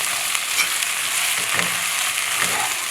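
Potatoes frying in a pot with curry powder and seasoning, a steady close broadband sizzle with a few faint stirring scrapes and no talk.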